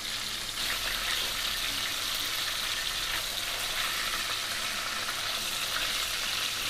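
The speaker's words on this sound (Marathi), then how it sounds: "म्हणजे ती खालची बाजू पण व्यवस्थित फ्राय होईल" Mackerel (bangda) fish frying in oil on a tava, a steady dense sizzle that stays loud and even from start to finish, close up with no talking.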